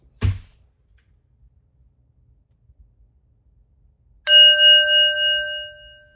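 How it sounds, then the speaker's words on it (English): A single bell struck once to gather people rings out clearly after a brief knock and a few seconds of near silence, its bright tone sustaining and slowly fading. "We'll gather with a bell."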